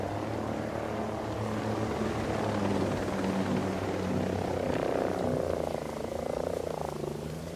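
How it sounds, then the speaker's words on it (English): An enemy helicopter flies overhead in Ghost Recon Breakpoint, a loud continuous rotor thrum and whine that builds and sweeps past with no talk over it. "Enemy chopper, stay down."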